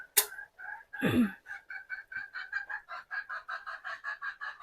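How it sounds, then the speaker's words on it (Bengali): Chickens on a home poultry farm cluck in a quick, steady series of close, rhythmic notes, preceded by a sharp squawk and a brief louder flurry. "প্রতিদিন মুরগির খাবার, পানি, ডিম ঘোরানো সমস্ত কাজ তো বর্ণমালার বাবা করে।"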